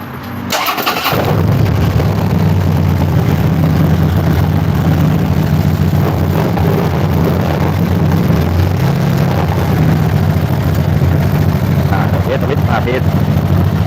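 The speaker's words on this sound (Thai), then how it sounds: "เดี๋ยวเราต้อง สตาร์ทบอมเครื่อง" A motorcycle engine starts with a brief crank and catches, then runs and revs steadily with a loud, close mechanical drone throughout; the bike has a gear oil leak and a crash-guard light that will not come on.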